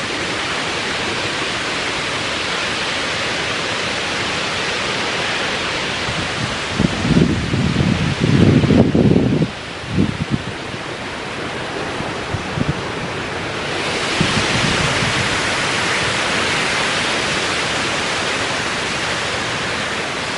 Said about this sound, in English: Here's that wind.